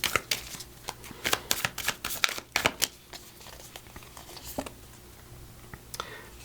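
A deck of empowerment oracle cards is shuffled by hand in quick, crisp riffling bursts of papery clicks, busier at first and then thinning to a few scattered snaps, heard alone with no talking.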